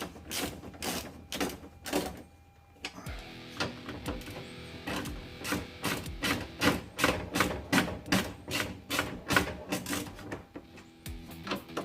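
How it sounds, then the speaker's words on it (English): A ratchet clicks in quick, even bursts as 10mm bolts are tightened on the window regulator inside a 2004–2015 Nissan Titan truck door. The clicking is close and steady, with no talking. "go ahead and tighten your 10mm bolts."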